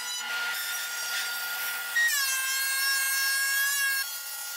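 A power drill whines steadily, its pitch shifting upward as it bores dowel holes into a wooden tabletop, continuous and close for several seconds.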